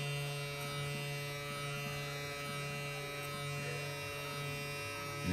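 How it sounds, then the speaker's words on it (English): A hair clipper buzzes steadily while its corner details a mid taper fade, a close, even electric hum with slight flickers of cutting and no talking. "we're gonna use the corner of our clipper."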